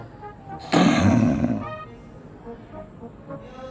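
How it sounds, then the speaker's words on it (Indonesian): A lion's angry roar in a children's story, one loud burst lasting under a second that fades into a softer rumbling tail, with quiet background noise after. "Ia membuat singa terbangun dengan marah sambil mengaum dengan keras."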